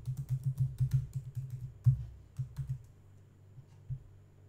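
Rapid clicking keystrokes on a computer keyboard as a password is typed, close and fairly quiet, in an irregular burst that slows to a few scattered taps near the end.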